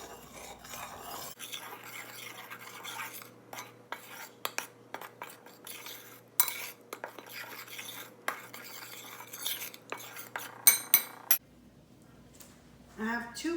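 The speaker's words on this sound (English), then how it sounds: "We're going to mix our dry ingredients together." Dry ingredients for a carrot cake are stirred together in a bowl with a utensil, giving a soft, steady scraping and swishing with occasional light clinks against the bowl, at moderate loudness and close by.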